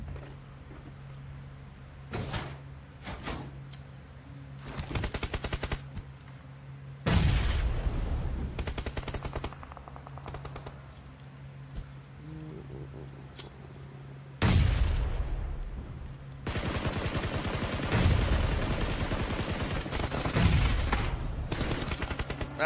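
Heavy gunfire in a PUBG Mobile team deathmatch esports battle, with rapid bursts and sustained automatic fire coming in waves, loud and close, with no talk over it.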